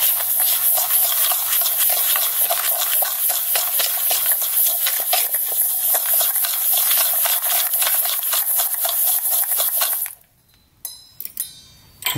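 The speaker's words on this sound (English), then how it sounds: "We're gonna add in all our dry ingredients. And first, we're gonna get them combined together." Dry ingredients for honey chicken wings are stirred together in a bowl, a quick regular scraping rhythm close up for about ten seconds, then a few scattered light scrapes and taps.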